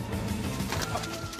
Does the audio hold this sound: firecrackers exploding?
no